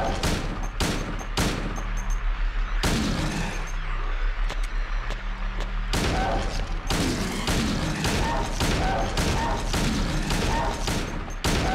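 Repeated shotgun blasts from the Silent Hill 2 video game, loud sharp bursts fired in quick irregular succession across the whole stretch, with short gaps and a brief lull of rumbling background noise between volleys.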